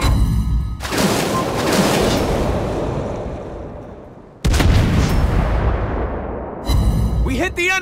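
Naval guns fire and shells strike the enemy in World of Warships Blitz, aboard the German Tier 6 destroyer Karl von Schönberg. Two heavy, loud blasts roll into long rumbling decays, and a brief warbling game tone closes the sequence.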